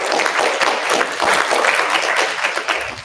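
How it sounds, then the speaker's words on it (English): An audience at a politics and leadership symposium applauds its panel members, a dense burst of many hands clapping close and steady for about three seconds, with no voices over it. "I applaud each of our panel members, our elected officials"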